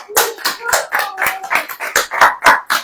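A group claps in rhythm at a church service, about ten distinct, evenly spaced clap bursts, loud and close, with no talking over them.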